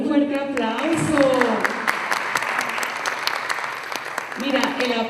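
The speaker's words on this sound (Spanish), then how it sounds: "vamos a darle un fuerte aplauso" Audience applause at a talk on adolescence, a dense, steady wash of clapping that fills the room between stretches of a person speaking at the start and end.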